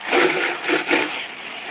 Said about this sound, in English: So we need to water these taro plants